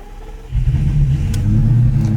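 A Lamborghini with a manual gearbox fires up after a quiet moment, its engine settling into a deep, close rumble that continues to the end.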